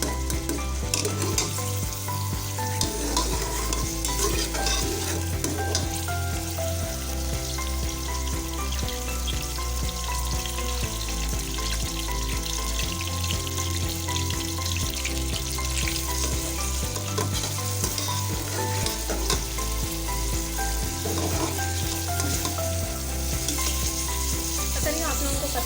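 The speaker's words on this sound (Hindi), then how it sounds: "प्याज को आपने ब्राउन होने तक जो है वो फ्राई करना है" Onions fry in a pan toward golden brown, giving a steady close sizzle with occasional stirring and light utensil contact and no talking.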